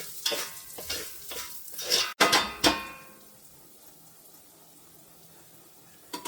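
Moong dal frying and stirring in a pan on a low flame, a few scraping strokes up close in the first seconds, then a quiet low sizzle continuing alone.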